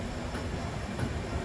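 An express passenger train, the Shalimar Puri Super Fast Express, pulls out of Belda station at night. It gives a steady, continuous rumble of rolling wheels and carriages, moderately loud and unbroken, with no voices.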